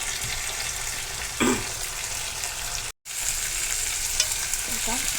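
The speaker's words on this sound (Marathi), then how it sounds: "हिरवे हरभर टाकून घेत आहे ओले शेंगदाणे हे देखील व्यवस्थित परतून घेणार आहे" Green chickpeas and fresh peanuts are sautéed with mixed vegetables in a pan, sizzling steadily up close with intermittent stirring scrapes and a short silent gap in the middle.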